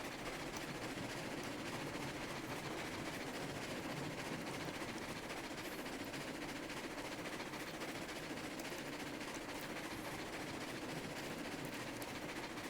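A steam train runs in the Railroads Online game, a steady, dense rumble with continuous rhythmic clatter that stays loud and unbroken throughout, with no talking.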